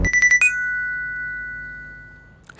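A quick series of bright electronic beeps followed by a sustained ringing chime that fades out slowly, with a faint rustle at the end.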